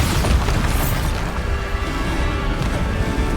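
A Bombarda blast spell in the video game Hogwarts Legacy: a loud, dense booming explosion with a rumbling low-end wash that sustains across the whole moment, up front and without speech.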